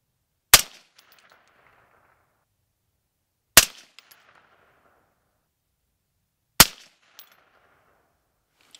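A supported rifle is fired at a shooting range: three sharp, loud single shots about three seconds apart, each with a short echoing tail, then quiet between.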